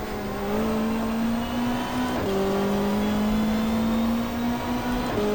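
A race car engine from a 1995 Australian Super Touring Championship round at the Gold Coast, simulated in GTR2, drones loud and steady, its pitch climbing and then dropping sharply at each gear change, twice in the span.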